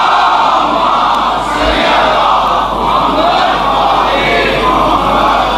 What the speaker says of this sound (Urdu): اس سے بہتر اور بلند صلوات نبی کی طرف۔